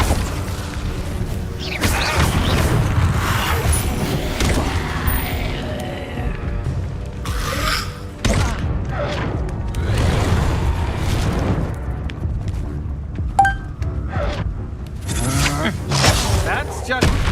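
Incendio fire spell blasts in Witch Simulator 2023, repeated loud booming whooshes and crashing bursts across the stretch, with a voice speaking between and over them.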